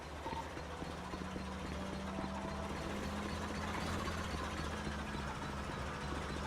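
A tractor engine idles in a video game in a steady, continuous low rumble with a droning hum, moderately loud and unbroken throughout.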